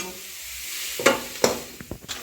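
Three vegetables stir-fried in oil with salt and pepper, a quiet hiss of frying broken by a few sharp clacks and scrapes as the pieces are turned over in the pan.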